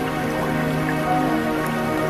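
Steady rain falls in a forest, an even hiss of drops and patter running throughout, with a sustained tonal drone beneath it.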